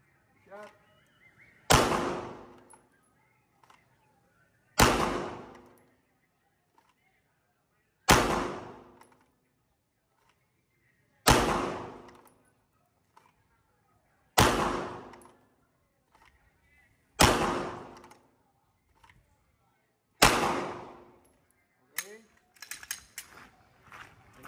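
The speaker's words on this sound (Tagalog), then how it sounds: "Tuloy-tuloy tayo ng putok." A Glock 17 Gen5 pistol firing Armscor FMJ rounds at a range: seven loud, sharp shots, each with a short decaying tail, spaced evenly about three seconds apart, then a brief clatter of handling noise at the end.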